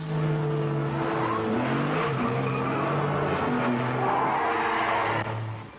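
Car chase from the film Swordfish: loud, continuous engine roar with shifting revs and skidding, squealing tires throughout, a dense action soundtrack with no talk.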